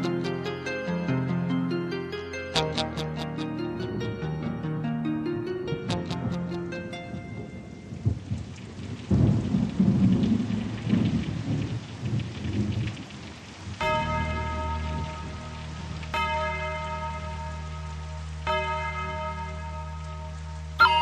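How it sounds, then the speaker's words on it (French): Rain and rolling thunder on the slate roofs of churches and farmhouses in Vendée, a steady rush of downpour with low rumbles swelling in the middle, heard beneath sustained music and bell-like tones. "Entend la pluie sur les ardoises, des églises et des métairies."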